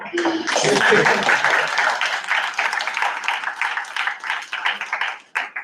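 An audience at a student government meeting claps in a brief, close round of applause that fades out after several seconds, with voices mixed in.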